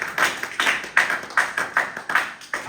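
A church congregation claps in unison at a Sunday service, six or seven sharp, evenly spaced bursts of many hands in a steady rhythm, with no voices over them.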